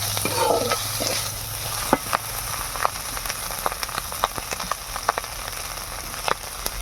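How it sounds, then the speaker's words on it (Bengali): Shrimp and crabs fry in oil with small puti fish in a village kitchen, sizzling steadily under sharp, irregular clicks and scrapes of stirring. "চিংড়ি আর কাঁকড়াগুলো ভেজে নেওয়া হচ্ছে।"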